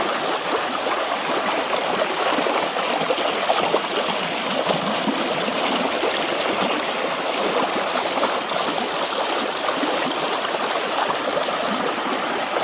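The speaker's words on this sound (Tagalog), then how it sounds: "ito yun ang ilog dito sa aming" River flowing past a farm area in the Philippines, a steady broadband rushing and trickling wash that stays even and close throughout, with no talking.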